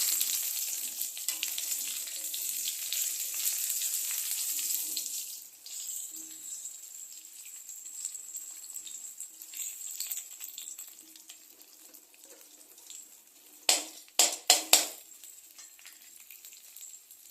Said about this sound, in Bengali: এখন দিয়ে দেওয়া হবে আলুগুলো। আলুটাকে দিয়েও একটু ভালো করে নেড়ে নিতে হবে।